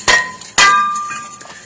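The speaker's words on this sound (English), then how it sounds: "hit it with a hammer" Two hard hammer blows strike a worn brake rotor on a 1998 Jeep Grand Cherokee, each a loud close metallic clang followed by a bright ringing tone that slowly fades.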